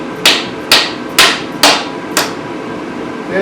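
Five sharp, ringing hammer strikes at an even rhythm drive a bolt out during a Canyon Cage install on a 2008 Kawasaki Concours 14 motorcycle, loud and close, with a short pause after the last blow.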